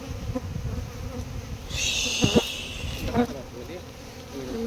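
Honeybees buzz around a beekeeping hive box in a steady, close swarm hum, with a brief louder pass of wingbeats partway through.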